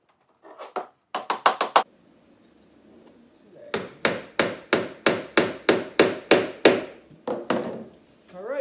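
A hammer drives a nail into wood for a squirrel feeder: a quick burst of taps, a pause, then a long run of steady, evenly spaced blows, close and sharp.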